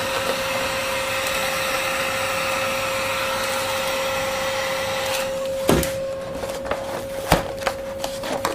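A heat gun blows on a vinyl VW Beetle door panel to make it pliable, a steady close whooshing hum with a tonal whine, followed in the last few seconds by scattered knocks and handling sounds as the blower continues.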